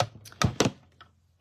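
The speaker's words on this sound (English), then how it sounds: "I'm going to run them through my mini cut and emboss machine" A small manual cut and emboss machine has scrap cardstock fed through it, giving a few close, brief mechanical thunks and clicks followed by quiet.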